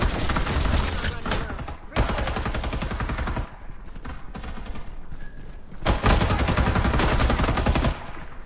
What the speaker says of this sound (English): Time for some artillery.